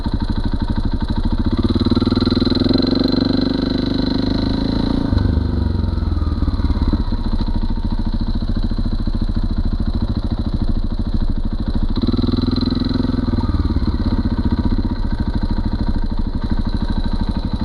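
A motorcycle fitted with a Rekluse automatic clutch pulls away in second gear without the lever, its engine loud and close, a rough throbbing drone that holds steady and swells twice as the throttle opens.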